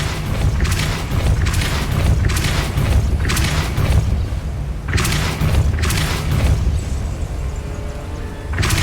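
A Depulso spell cast in the video game Hogwarts Legacy sends out a string of heavy booming blasts with sharp bursts at the front, repeating at a steady beat and loud throughout, with no voices over them.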